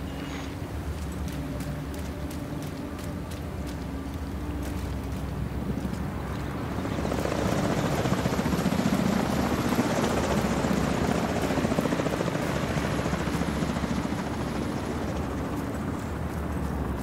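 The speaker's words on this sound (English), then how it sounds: "Brenner, Recon 4 has a visual on an unknown helo headed east over the Potomac" A helicopter flies over the Potomac in the video game The Division 2, its rotor thumping steadily at a distance and then swelling louder and nearer midway through, with a rushing wash over the last half.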